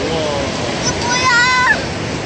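Ocean surf rolls onto Haeundae Beach in Busan as a loud, continuous wash of breaking waves, with faint whistle-like tones drifting over the roar.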